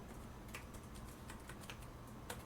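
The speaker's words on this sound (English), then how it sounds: "now we're going to type in" Keys tapped on a computer keyboard while entering text into Design Spark Mechanical CAD software, a steady run of light close clicks with a few sharper strokes, no voices.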